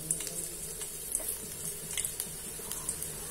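Karanji, sweet stuffed dumplings, fry in hot oil for a Sankranti dish. The oil gives a soft, steady sizzle with small crackles and pops scattered through it, fairly faint and heard alone.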